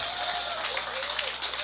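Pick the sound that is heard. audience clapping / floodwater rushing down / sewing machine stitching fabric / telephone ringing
audience clapping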